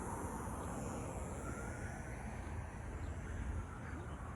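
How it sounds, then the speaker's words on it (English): Faint, steady rumble of distant freeway traffic with trucks passing, a continuous broadband wash heard from a quiet residential street in Las Vegas. "You can hear barely, but you can hear the freeway back that way"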